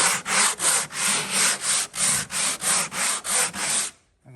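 Rhythmic back-and-forth sanding strokes over dried filler on a catamaran hull under construction, about a dozen loud, close, even passes with a steady gritty rasp, ending abruptly in near silence.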